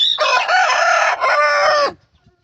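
A rooster crows loudly and close by, one long drawn-out call that breaks midway and then trails off into quiet.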